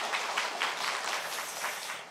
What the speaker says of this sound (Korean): 우리 하나님 앞에 감사하는 마음으로 하나님 앞에 영광의 박수를 한번 올려드렸으면 좋겠습니다